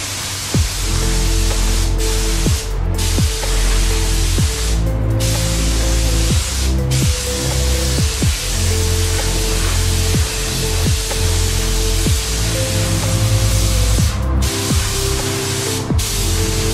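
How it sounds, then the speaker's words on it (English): Spray gun laying clear coat on a Jaguar F-Pace during a smart repair, a loud continuous hiss that runs steadily throughout with brief pauses and faint background clunks, no voices. "let's get some clear coat on this thing"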